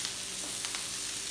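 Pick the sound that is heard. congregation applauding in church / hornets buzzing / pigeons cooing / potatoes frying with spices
potatoes frying with spices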